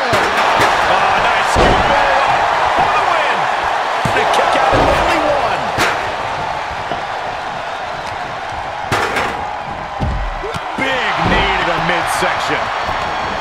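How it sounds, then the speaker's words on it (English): Capacity arena crowd at a Hell in a Cell wrestling match in WWE 2K23, a steady loud roar punctuated by heavy slams and impacts, with commentary voices talking over it. "you hear this capacity crowd following you on that journey"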